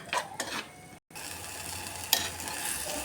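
Rasam ingredients frying in a pan, salt being added and stirred in, with a steady soft sizzle and scraping stir strokes near the start, then a brief cut before the frying hiss continues, alone with no talk.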